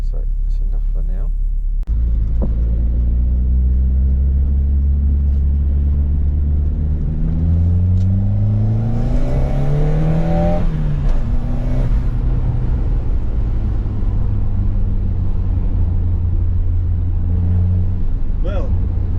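A car drives steadily with a continuous engine rumble, rising through a few gear changes and revving up before settling, the sound close and unbroken throughout.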